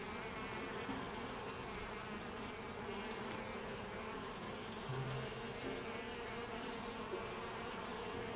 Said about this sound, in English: There are bees everywhere.